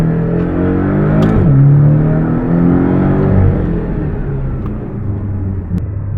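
Porsche 718 Boxster in sport mode, pre-warmed, revving hard: a loud, close engine drone whose pitch climbs sharply around one and a half seconds, then holds a strong, steady rumble with smaller rises and dips. No talking.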